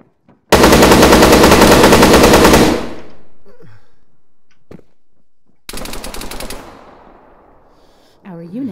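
Machine gun fire in a video game rips out in two long sustained bursts, loud and close, with a pause of quieter game sounds between them.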